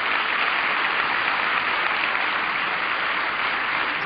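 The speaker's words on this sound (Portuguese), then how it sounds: "os garotos arrancaram aplausos da plateia" Sustained, dense applause from a concert audience for a youth band, a steady even clatter of many hands that fills the whole stretch without pause.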